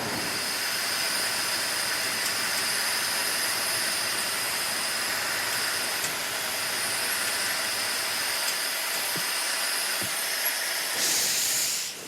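A freight train hauled by a locomotive rolls past on a railway line, a steady broadband hiss and rumble that holds throughout, with a faint wheel squeal and a brighter swell near the end.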